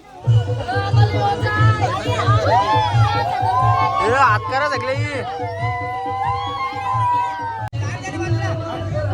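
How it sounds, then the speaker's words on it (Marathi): A crowd of children at a village fair (jatra) for the Chimbari Devi festival, with dense overlapping chatter and excited shouts close by and a voice calling out over the babble. "बघा गर्दी बघा किती आहे"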